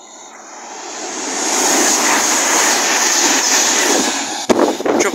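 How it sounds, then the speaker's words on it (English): East Midlands Railway Class 222 train passing at Leagrave on the Midland Main Line, building from a distant hiss to a loud, close rush of wheels and air with a sharp clatter near the end. "Next trip to pass by is going to be East Midlands Railway Class 222 from Sheffield to London to St Pancras"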